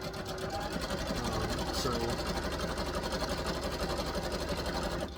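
Sewing machine stitching elastic onto wrestling tights with a combined straight and zigzag stitch, a steady rapid close mechanical whir running continuously, with a brief spoken word at the start.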